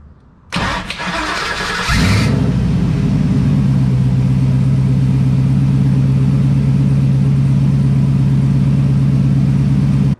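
LS-swapped Chevrolet Colorado pickup cranking over briefly, then catching and settling into a loud, steady, deep idle rumble close by, with no talk.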